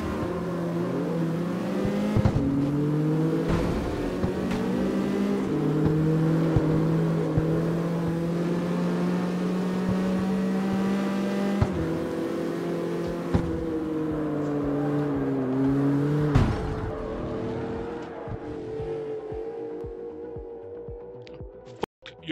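A car engine drones and revs in the driving game CarX Street, a sustained tonal roar that climbs and dips in pitch through several gear shifts before dropping away near the end.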